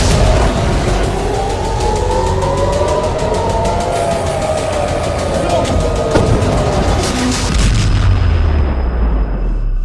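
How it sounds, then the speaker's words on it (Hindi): Missile strikes exploding over Tehran form a dense, loud, continuous barrage of rumbling blasts and rapid cracks, with long whooshing tones sweeping through the din for nearly ten seconds. "तेहरान पर मिसाइलों की बौछार हो रही है।"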